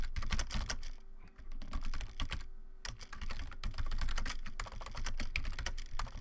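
Steady, rapid typing on a computer keyboard fills the stretch with dense, close clicking keystrokes, broken by a couple of brief pauses while a rough draft is written.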